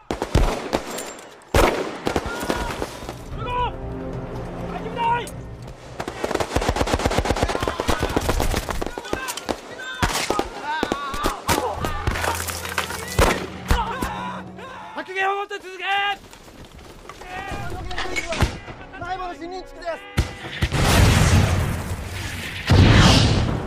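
Rapid gunfire and heavy booms of shelling fill the scene, with voices shouting in between and bursts of automatic fire rattling on.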